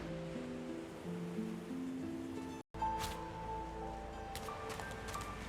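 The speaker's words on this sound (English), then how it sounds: "The woman looks out on the gently lapping waves." Ocean waves lap gently at the shore in Divinity Original Sin 2, a soft, continuous wash under sustained musical tones, with a brief dropout to silence partway through.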